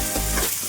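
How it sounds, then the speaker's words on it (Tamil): Tomatoes sauté in a pan for a fenugreek-leaf greens dish, giving a brief, steady, close sizzle with faint crackling throughout. "தக்காளி போட்டு நல்லா வதக்கிட்டேன்."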